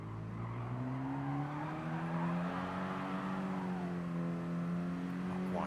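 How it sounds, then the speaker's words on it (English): A Mini Cooper race car in a Mini Cooper Cup race at the Tsukuba Circuit hairpin drones steadily nearby, its engine note holding and shifting slightly as it holds the inside line, with a faint tire squeal. "You'll see Cutler just holding on to those inside lines as he comes into the hairpin"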